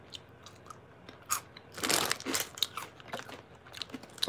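Someone crunches and chews crunchy Cheetos close to the microphone, with a few small bites building into a loud burst of crunching before fading to quieter chewing, and no speech.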